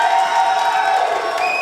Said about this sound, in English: That cheering is loud.